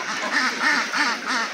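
Zinding ducks quacking in a crowded duck farm house, a dense chorus of many overlapping nasal quacks in a steady rhythmic pulse, loud and close.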